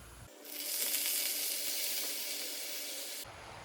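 Washed leaves drop into hot oil with garlic and burst into a loud, close sizzle that starts abruptly, holds steady for about three seconds and then cuts off.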